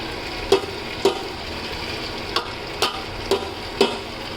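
Rice being fried with long beans and small diced potatoes for vegetable khichuri, a continuous sizzle broken by about six sharp scraping stirs of a spoon against the pan, close and clear with no talking.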